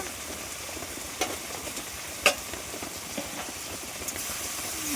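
Salt and cumin paste are being stirred in a frying pan, giving a faint, steady sizzle with a few soft scrapes and taps of a spatula and no talking.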